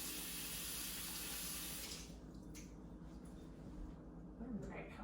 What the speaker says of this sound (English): Rinse the olive juice off my hands.